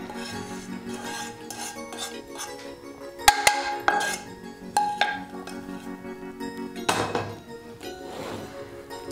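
Roasted nuts being stirred into a warm suji laddu mixture in a pan, with close metallic scraping, clinks and a few sharper knocks of a spoon against the pan, then steadier rubbing strokes.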